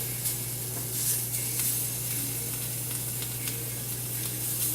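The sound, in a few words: omelet sizzling as it cooks in the pan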